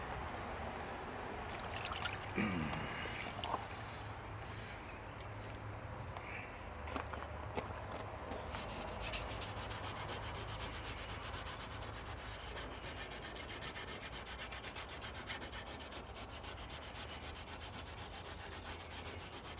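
Steady hand sanding of a 1957 Chevy car body with a small piece of sandpaper, a continuous close scratchy rubbing that keeps an even pace throughout with no talking.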